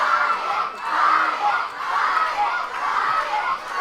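A wrestling crowd at a heavyweight championship match cheers and shouts continuously, a dense roar of many voices with youthful yells, loud and sustained throughout.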